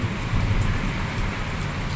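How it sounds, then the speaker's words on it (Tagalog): Heavy, steady rain pours down during a typhoon in the Philippines, a dense, continuous hiss with a low rumble underneath, loud and unbroken throughout. "Isa tuloy-tuloy itong ulan."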